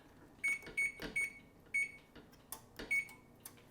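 An oven control panel being set to 375 degrees, giving a run of short, bright electronic beeps at irregular intervals along with soft clicks of button presses nearby in a quiet kitchen.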